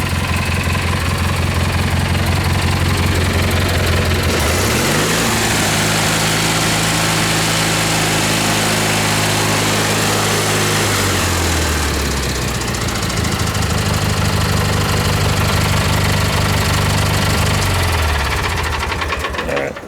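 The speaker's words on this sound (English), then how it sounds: "Nice heavy duty tractor, last of the good tractors of the GT series." A garden tractor's small engine runs loudly and steadily nearby with a throbbing, knocking rumble, its pitch shifting up and down a couple of times.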